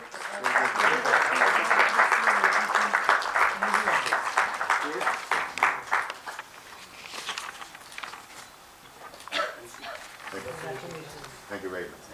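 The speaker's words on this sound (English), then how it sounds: "a big round of applause" An audience at a spring festival inauguration bursts into loud, dense applause that fades after about six seconds into scattered claps, with talk continuing over the tail.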